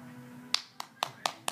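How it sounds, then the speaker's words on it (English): A young child claps hands five times in quick, slightly uneven succession, crisp and close, over a faint room hum. "Clap your hand."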